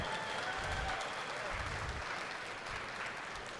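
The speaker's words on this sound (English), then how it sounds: "Yes, that deserves a lot of applause." A convention crowd applauds steadily, a dense wash of clapping at moderate distance that continues evenly throughout.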